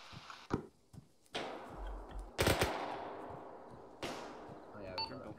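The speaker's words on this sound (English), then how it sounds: "Where are those shots coming from?" Scattered gunshots in an Arma 3 night battle in Fallujah: several sharp, separate cracks at irregular intervals, some near and loud, others softer and farther off, over a hissing background, with faint voices.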